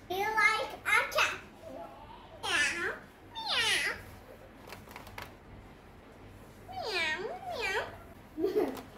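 A child imitates a cat, giving several drawn-out, rising and falling meows in a row with short pauses between them, close and fairly loud against a quiet room.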